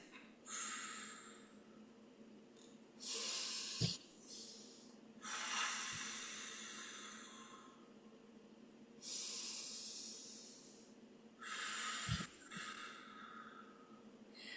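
Slow, deep breaths during a relaxation and core exercise session, each long airy inhale and exhale rising and fading in turn, close and soft, with no talking.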